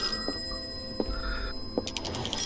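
A telephone rings in Call of Cthulhu: about three short bell tones spaced evenly, clear and fairly close, over a quiet tonal background.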